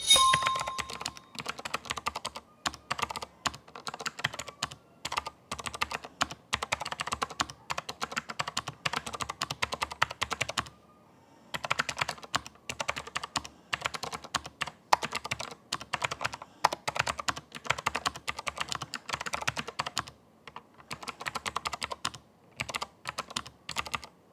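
Typing on a Cooler Master SK653 wireless mechanical keyboard: dense, rapid clacking keystrokes close up, running continuously with a short pause midway.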